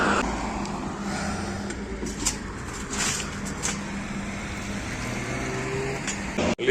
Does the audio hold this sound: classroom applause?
no